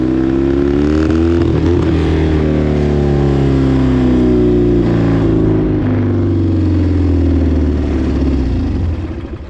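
A 1967 Triumph custom chopper motorcycle runs on a test ride, its engine droning loud and close with steady harmonic tones that rise and fall slightly as the throttle changes, easing off near the end.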